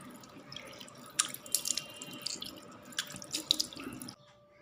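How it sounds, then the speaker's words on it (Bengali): Tap water runs steadily into a sink at home while someone washes their face after brushing their teeth, with splashes and drips over the flow before it stops near the end. "দাঁত মেজে একটু ভালো করে মুখ টুক ধুয়ে নিচ্ছি"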